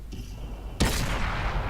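A single sharp tank cannon shot in World of Tanks on PS4 bursts in suddenly after a quiet lead-in, then decays into a lingering rumbling tail.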